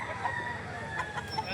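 Chickens at a poultry market in Lipa, Batangas cluck and crow in short bursts over a steady crowded background hum.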